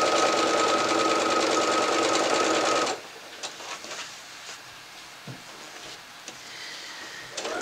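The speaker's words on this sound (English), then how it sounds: "we're just going to sew this along here." A sewing machine stitches along a fabric Kallax box cover, running loud and steady for about three seconds before stopping, followed by quieter handling clicks and rustles.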